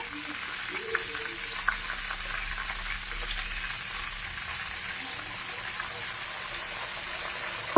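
Banana chips fry in hot oil as salted water is added, giving a steady crackling sizzle with scattered pops throughout, close and even in level.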